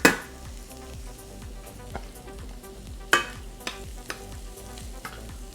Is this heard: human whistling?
no